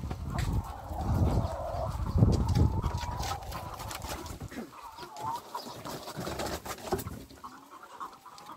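Free-range chickens on a Brazilian egg farm cluck and squawk up close, a busy flock with overlapping calls and fluttering, loudest early on and thinning toward the end, with no talk.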